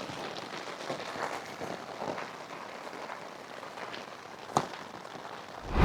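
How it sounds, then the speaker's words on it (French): Heavy rain drums steadily on a tent during a solo bivouac at night, a dense continuous patter with a few louder drops, and a sharp rustle or knock near the end. "Il pleut vénère, ça me fait peur."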